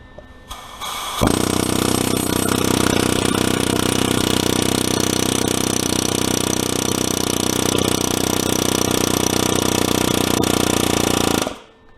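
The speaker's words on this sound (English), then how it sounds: "I'll just rattle on the end of it with an air hammer and see if I get results or not." An air hammer rattles on the end of a broken exhaust manifold bolt on a 5.3 engine, kicking in abruptly after a brief lull and hammering continuously and loudly for about ten seconds before cutting off.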